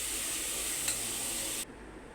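Onions salted in a hot pan for mutton curry, stirred with a steady, close, hissing sizzle throughout that cuts off abruptly near the end, with no talking.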